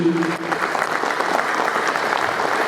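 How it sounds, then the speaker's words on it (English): Audience members at a provincial awards ceremony in Harare give a steady, full round of applause, with a brief voice at the very start before the clapping fills the room. "I think we all deserve to give each other a big round of applause for standing it out in 2022."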